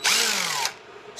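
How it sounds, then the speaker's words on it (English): Impact gun driving slowly during an LED strip install on a Nosfet Aero, a short close whir that rises in pitch and then slides down before cutting off, followed by a faint second start, with no voices. "I'm going to use my impact gun very, very"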